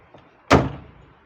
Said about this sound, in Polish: możecie posłuchać, jak pięknie się te drzwi zamykają.